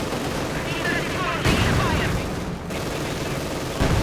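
Battlefield gunfire in the Company of Heroes 2 strategy game, rapid overlapping rifle and machine-gun bursts with booms, dense and continuous, mixed with game voices.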